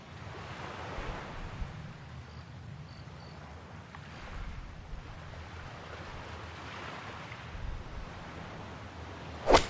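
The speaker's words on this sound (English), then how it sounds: "the wind is really whipping here" Gusty wind sweeping across a golf course on a pro tour event, a steady rushing roar with buffeting swells against the microphone and a sharp gust near the end, no one speaking.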